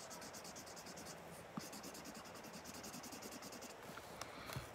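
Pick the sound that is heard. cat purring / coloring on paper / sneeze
coloring on paper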